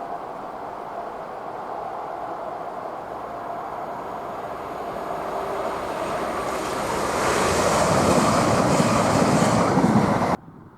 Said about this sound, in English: Next, we see ScotRail Class 170, 17406, as it descends from Dromocta Summit